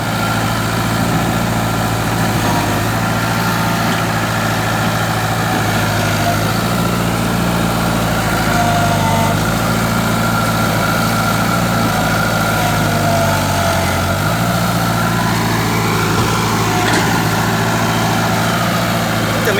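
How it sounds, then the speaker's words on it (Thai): An SKO45 backhoe engine under repair runs loud and close with an uneven, rough idle that dips and surges over a constant low rumble. "แล้วก็เสียงเครื่องยนต์นี่ไม่ค่อยจะ ไม่ค่อยจะนิ่มเท่าไหร่นะครับ"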